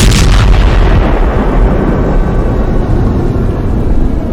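A loud, sustained explosion from a video game: an initial blast followed by a heavy, rumbling roar that fills the whole clip without pause, with no talk over it.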